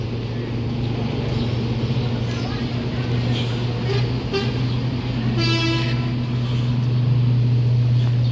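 An NPM executive-class bus sounding its horn at the Bukit Surungan bus terminal in Padang Pariaman, short toots over a steady low engine idle, with someone talking throughout.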